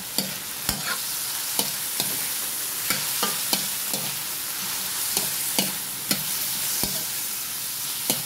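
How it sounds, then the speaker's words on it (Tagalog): Chicken stirred in a hot pan for pancit bihon: a steady sizzle under regular sharp knocks and scrapes of a spoon against the pan, close and alone. "Haluin lang natin."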